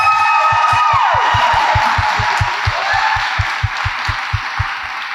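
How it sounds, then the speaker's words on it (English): An audience at a mental health panel claps for the panel speakers in a full, sustained burst of applause. A regular rhythmic clapping pattern runs underneath, with faint scattered voices in the crowd. "Let's give them a huge round of applause."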